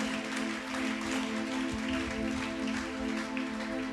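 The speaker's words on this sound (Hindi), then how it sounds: "आइए ताली बजाएं और प्रभु को महिमा दें।" A church congregation claps steadily together during worship, a dense even patter of many hands over a sustained musical drone.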